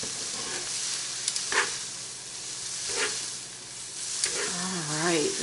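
Onions caramelizing in a pan give a steady, close sizzle and hiss, with occasional scraping stirs cutting through at a few points.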